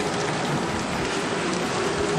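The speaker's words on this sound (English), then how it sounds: "the scene on a stormy rainy day" Rain beats down at a stormy anchorage during a gale, with small sailing boats at anchor, a loud, steady hiss of rain and wind with no break and no voices.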